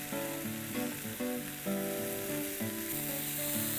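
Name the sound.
green peas samosa filling being mixed in pan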